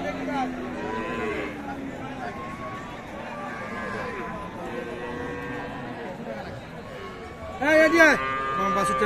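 A Friesian cow moos a couple of times over steady outdoor background noise at a cattle market, with people chattering nearby.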